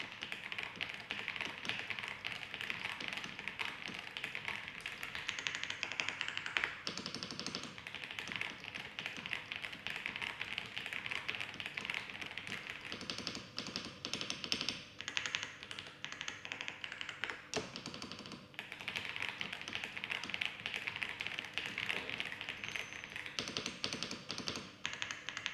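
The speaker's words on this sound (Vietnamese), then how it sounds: "mình sẽ mời anh em nghe một đoạn sau test về con hàng IG102 nhà mình nhé" Typing test on a YG102 mechanical keyboard: a continuous fast patter of crisp key clicks, close and steady, with a few brief pauses and no talk.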